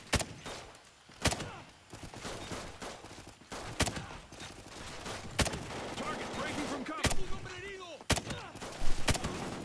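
Repeated gunfire bursts in a jungle level of the PC shooter Call of Duty Ghosts, sharp shots spaced irregularly over steady battle noise, with someone talking throughout.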